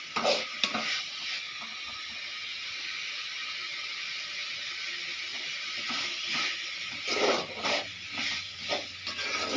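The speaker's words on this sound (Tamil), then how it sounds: "பாவக்காய் நல்லா வதங்கட்டும் நல்லா வதக்கிக்கலாம் பாவக்காவை" Bitter gourd sautéing in a pan, a continuous bright sizzle with scattered stirring scrapes and clatter of a spoon against the pan, close up and with no voices.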